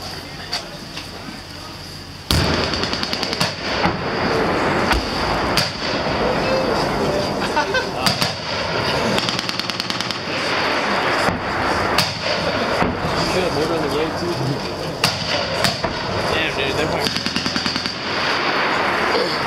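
Crew-served machine guns firing live rounds at a range during a TBS weapons demonstration, loud sharp bursts and repeated shots running steadily through the clip, with voices talking over the firing.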